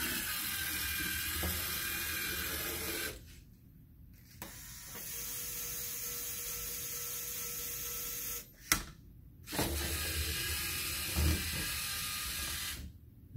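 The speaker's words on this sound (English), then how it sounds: "Let's go ahead now and use the claw to pick up something" A claw attachment on an FLL competition robot whirs and ratchets mechanically in several bursts separated by short pauses while retrieving a coin, close and fairly quiet.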